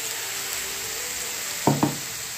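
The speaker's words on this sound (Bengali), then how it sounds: "এবার এই মশলাটা ঢেলে দেবো, এবার করবো।" Chili flakes, turmeric and salt sizzle with raw cauliflower in a frying pan for a Bombay duck dish, a steady close hiss broken by two quick spatula scrapes near the end.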